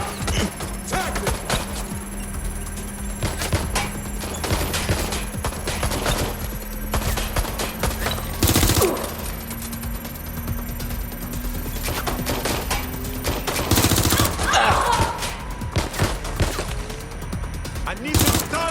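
Rapid bursts of gunfire crackle through a Watch Dogs Legion firefight in London, dense volleys with loud sharp cracks near 8 and 14 seconds over a steady background hum, with voices talking amid the shooting.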